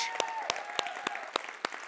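Audience applause at a live Quebec podcast taping, a short burst of scattered, fairly faint clapping with distinct individual claps spaced across the moment rather than a dense roar.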